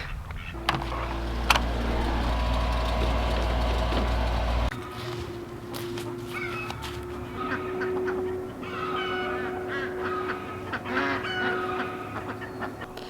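Ducks on a farm pond call and honk in a loose, irregular chorus close by, with a low rumbling hum in the first few seconds and scattered squawks continuing throughout.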